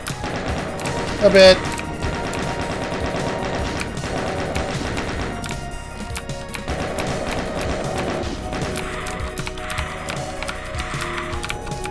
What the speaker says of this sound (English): I have some fucking chain gun.